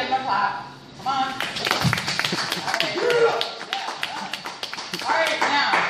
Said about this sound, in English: Everybody give them a clap.